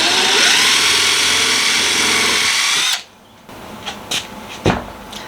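Power drill boring a small pilot hole in the lid of a homemade bee trap: a loud, steady whine for about three seconds that stops abruptly, followed by a few light handling clicks and knocks.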